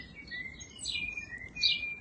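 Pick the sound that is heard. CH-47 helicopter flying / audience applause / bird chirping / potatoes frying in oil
bird chirping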